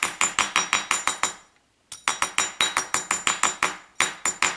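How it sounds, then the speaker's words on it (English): A chasing hammer flattens a wire pendant on a block in quick, loud, ringing metallic strikes. A burst of about eight blows is followed by a short pause, then a longer steady run, with no talk. "we're going to hammer this bottom part here"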